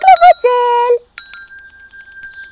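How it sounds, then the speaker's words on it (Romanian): A small hand bell rings in bright, clear chimes after a voice speaks, with several rapid repeated strikes ringing on briefly. "Pentru asta am nevoie mai întâi de clopoțel!"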